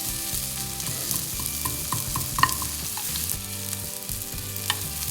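Thattukada-style vegetable curry sautéed in a pan with a quarter spoon of black pepper and fennel: steady stirring scrapes over a continuous close sizzle, with a few sharper clinks, and no talking.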